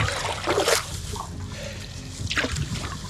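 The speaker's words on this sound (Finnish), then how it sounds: "Siellä se voimalaitos pauhua." Water pours from the open dam of a hydroelectric power plant on the Mustionjoki river in winter. It makes a steady broadband rush with louder splashing surges near the start and end, and no one talks.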